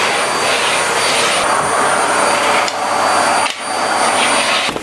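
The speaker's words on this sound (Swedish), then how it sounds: "då får man ta fram dammsugan då" A household vacuum cleaner runs steadily up close and loud, its broad whine holding throughout with a couple of brief dips in pitch and level.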